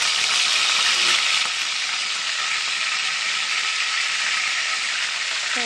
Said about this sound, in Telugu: నూనె మరిగిందండి. కరివేపాకు వేసారు.